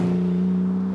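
Porsche 914 restomod with a 400bhp engine and six-speed manual, its motor droning loud and steady at a constant pitch through a short burst, no voices over it.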